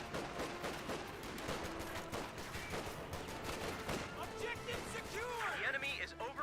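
Sustained gunfire barrage from an artillery-style bombardment in the video game Company of Heroes 2, dense overlapping shots and blasts rolling continuously at a steady level, with someone commentating over the battle.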